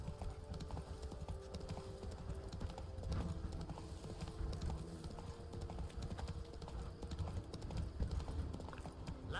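Horse hooves clip-clop steadily as Roach is ridden in The Witcher 3, a continuous rhythmic trot under ambient game sounds, with brief spoken lines over it.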